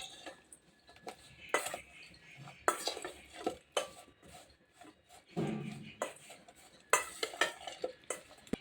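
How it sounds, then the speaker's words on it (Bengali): Fresh chillies being tossed and mixed with salt by hand or spoon in a bowl, giving irregular rubbing, scraping and soft clinks of utensil against the dish, close and fairly quiet, with no talk. "লবণ দিয়ে ভালোভাবে একটু লঙ্কাগুলিকে মেখে নিচ্ছি"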